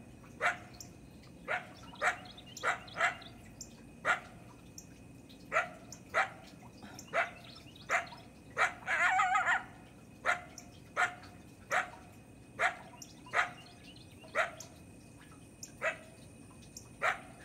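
Doberman barking outdoors, single sharp barks repeating at a steady pace of roughly one per second, moderately distant and faint, with a brief burst of rustling noise partway through.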